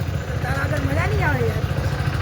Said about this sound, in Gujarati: મારી બાઇક ગરમ કરવા મૂકી દીધી છે